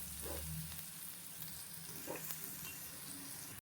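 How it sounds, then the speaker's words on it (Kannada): Chopped green chillies fry steadily in a pan, a continuous close sizzle with a few soft stirring scrapes throughout, no voices. "ಇದಿಷ್ಟು ಸ್ವಲ್ಪ ಗೋಲ್ಡನ್ ಕಲರ್ ಬರಲಿ ಅಲ್ಲಿ ತನಕ ಫ್ರೈ ಮಾಡ್ಕೊಳ್ಳಿ"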